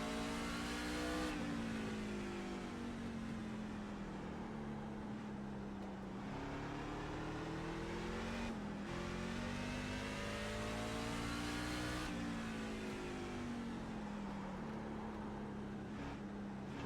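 A race car engine in the iRacing sim game roars steadily and loudly, with the pitch climbing through each gear and dropping sharply at the shifts.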